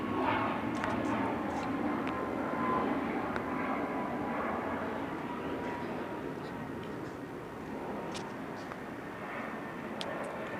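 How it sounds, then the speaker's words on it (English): A Southwest Airlines commercial airplane passing overhead makes a steady, distant rumbling roar that holds for the whole stretch, with faint ambient noise around it. "That's Southwest Airlines that is proceeding south over the 280 Northland Apartments."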